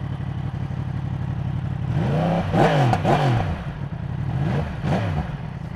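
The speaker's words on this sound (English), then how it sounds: "You can hear that powerful cross-plane crank churning away." Brand-new Yamaha R1 motorcycle with cross-plane crank and stock exhaust, idling close by then blipped into several sharp revs that rise and fall, the last two spaced apart near the end.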